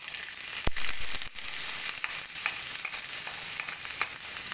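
Chopped onion fries in hot desi ghee with a steady, close sizzle, a dense hiss broken by a few sharp crackles and pops; no one speaks.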